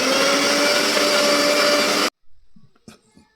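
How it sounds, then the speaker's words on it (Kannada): An electric mixer grinder whirs loudly at a steady high pitch while grinding chilli masala for country chicken biryani, then cuts off abruptly, leaving a few faint knocks and small handling sounds. "ಇಷ್ಟನ್ನ ನಾನು ಗ್ರೈಂಡ್ ಮಾಡ್ತಾ ಇದ್ದೀನಿ"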